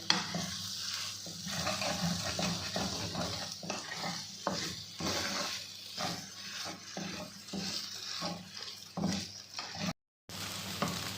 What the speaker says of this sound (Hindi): ये मैंने ना हलवा इसमें भून रही हूँ